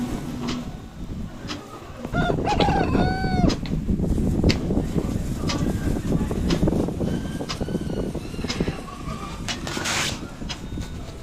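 Fighting roosters and hens kept in pens cluck in short calls, with a few brief crowing-like cries, over a busy, noisy outdoor background.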